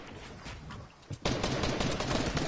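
Dense bursts of video game gunfire that grow louder partway through, turning into a continuous, rapid, crackling volley of shots.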